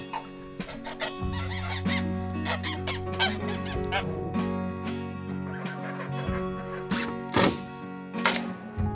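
Several guard geese honk and cackle nearby in overlapping bursts, loud and continuous, with wing flaps and shuffling between calls.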